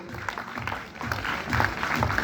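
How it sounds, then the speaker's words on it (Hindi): Applause greets a student at a 15th August 2025 school celebration, a steady patter of clapping from an audience that swells slightly toward the end, moderately loud. "जोरदार तालियां स्वागत करें"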